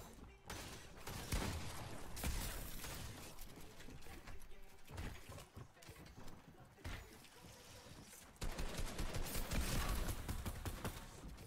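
Charge shotgun fire in Fortnite Arena bursts out in rapid, dense volleys amid busy game noise, loud and continuous with a heavier flurry toward the end.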